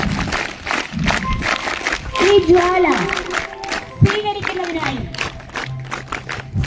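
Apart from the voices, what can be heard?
audience applause welcoming guests at school sports meet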